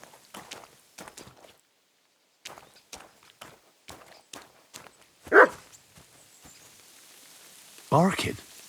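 A dog barks in Kingdom Come: Deliverance II, two loud, fairly close bursts standing out over soft footsteps and quiet game ambience.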